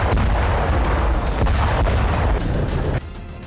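Loud rumbling blasts from a rocket attack on kibbutz Be'eri, a sustained roar of booms and heavy reverberation that cuts off abruptly into quieter background near the end.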